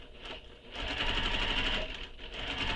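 A sewing machine bastes a handbag seam within the seam allowance, using a longer stitch around curves: a close, whirring motor runs briefly, pauses, then stitches in a longer steady run with a small dip near the end.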